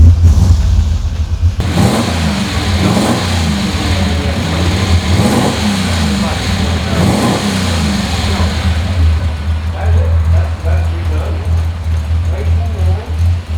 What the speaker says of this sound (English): This car makes a great sound when it goes down the road too.